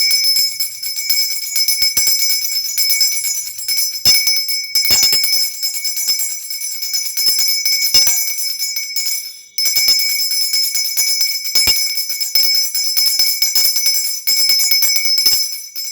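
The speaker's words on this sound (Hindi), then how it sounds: "आरती के समय घंटा थोड़ा सा जोर से बजेगा, पर उसमें भी एक ताल होना चाहिए।" Puja bell (ghanta) rung loudly and steadily in a rapid, even rhythm during aarti, bright metallic ringing sustained throughout with only a brief break.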